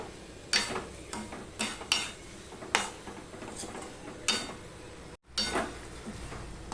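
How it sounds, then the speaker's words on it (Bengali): Fried pointed gourd pieces tossed with spices in a pan, heard as repeated scraping and clinking of a utensil against metal over a low background sizzle, with irregular stirring strokes. "ভেজে রাখা পটলগুলো দিয়েও আমি এক থেকে দেড় মিনিট কষিয়ে নেব"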